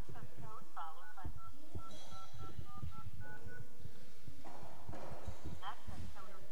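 A telephone keypad sends a string of short DTMF beeps, about eight evenly spaced tones, while a conference access code is entered over a call line, with voices talking underneath and around the tones.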